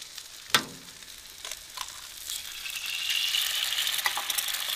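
Eggs crackle and sizzle in a hot pan with spring onions and tomato, starting with a sharp clatter as they go in, then a steady frying hiss that grows denser, with no voices.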